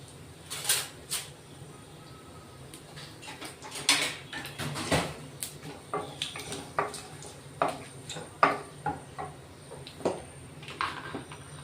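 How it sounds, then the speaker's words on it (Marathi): Mustard seeds, cumin and bay leaf being sautéed in a pan for a homemade-masala chicken dish, heard as irregular clinks and scrapes of a utensil against metal over faint background noise, close and moderately loud, with no talk. "तेजपान, सर्व मसाले आपण आता मस्त परतून घेणार आहे."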